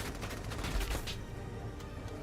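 Rapid gunfire from a war video game fires in dense, overlapping bursts, loud and continuous with no pause, with no voices.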